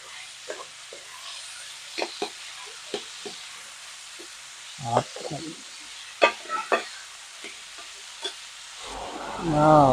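Vegetable fern is stir-fried with fermented pork in a pan, giving light scraping stirs and sporadic soft sizzle, with a louder stir burst near the end.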